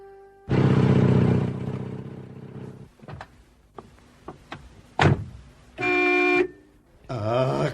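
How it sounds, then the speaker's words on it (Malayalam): A car arrives, its horn giving several loud blasts of varying length between engine revving and short clatters, close by with no talking. "കാറ് വന്നല്ലോ"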